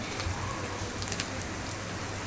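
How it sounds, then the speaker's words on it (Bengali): Pumpkin leaves frying crisp in hot oil, giving a dense even crackle and sizzle that holds steady throughout, close and moderately loud. "এগুলো এখন মসমসে করে ভেজে তারপরে তুলে নিব"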